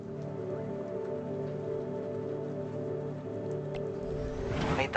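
Heavy rain pours down in the video game Dispatch, a dense, steady hiss of drops on surfaces with a faint splashy burst near the end.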